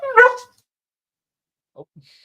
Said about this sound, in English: that's that's my dog